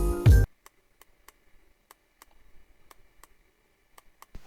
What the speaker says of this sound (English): This is the sound of my other Pro controller with the mechanical buttons.